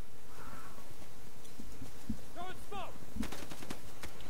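Gunfire in the video game Insurgency: a few sharp, loud shots with the sharpest cracks at about two and three seconds, separate bursts over quiet background, with no talk.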